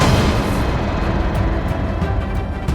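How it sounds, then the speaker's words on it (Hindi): A sustained, loud explosion effect rumbles steadily for about three seconds, a dense roar like heavy blasts or artillery with no gap and no voices. "थोड़ी देर बाद वहाँ पे धमाका होने लगा।"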